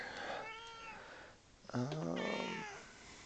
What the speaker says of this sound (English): if you can hear my cat in the background